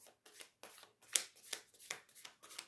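An oracle card deck of matte-finish cardstock is riffle and overhand shuffled up close, giving quick bursts of papery flutter and slaps in an uneven rhythm with short pauses between, and no voices.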